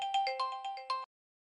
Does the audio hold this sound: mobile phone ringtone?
yes